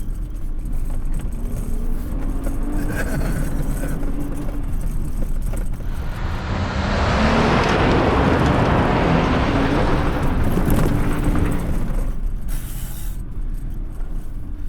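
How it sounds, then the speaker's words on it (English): Jeep Gladiator Mojave driving off-road, a continuous loud engine and chassis roar with dense rattling and thumping that swells louder midway, alone without talk. "the rattling, although there is lots of it, it's not as bad as I thought it would be"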